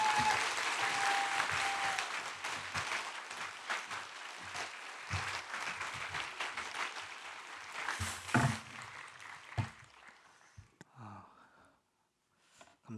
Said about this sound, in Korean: 말씀 주실 때 나오실 때 뜨거운 박수로 맞이하겠습니다.